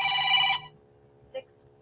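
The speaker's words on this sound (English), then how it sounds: "we do have a cell phone. It rang loud" A cell phone rings loudly for about half a second and then cuts off, leaving a faint electronic hum and one small click.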